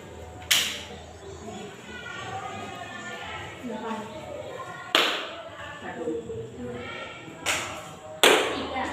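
Sharp, separate claps in a classroom counting game punctuate a teacher's spoken counting, with a few loud, well-spaced hand strikes between stretches of talk.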